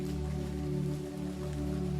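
Steady rain falls in a continuous, even wash with no pauses and no voices.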